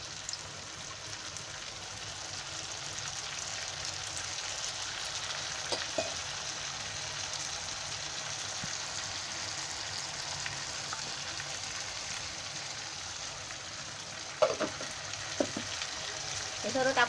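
Ground green chili and garlic paste sizzles in a hot pan while chicken biryani masala is prepared, a steady close frying hiss with occasional scraping clinks of a spoon stirring.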